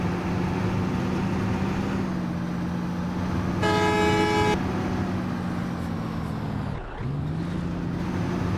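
Busy road traffic on the Barishal to Kuakata route, heard from inside a moving bus: a steady engine drone and road rumble, with one loud, close horn blast lasting about a second.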